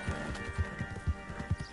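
Horse hooves clip-clop at an even trot while riding in Red Dead Redemption 2, five or six soft thuds spaced about half a second apart under a steady game ambience, with no talking.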